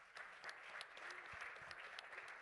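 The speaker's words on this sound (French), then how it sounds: "on peut l'applaudir" A conference-debate audience in Monaco welcomes a guest with applause, a soft, distant patter of clapping with a few sharper nearby claps.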